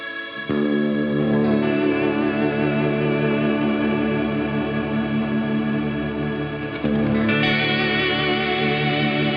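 Sustained electric guitar chords with a shimmering, wavering chorus effect, ringing steadily, then a fresh chord struck near the end.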